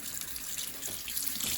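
Water runs steadily from a tap into a sink while an old G-Shock G-7700 watch is washed. The splashing is close and continuous, with small drips and sloshes.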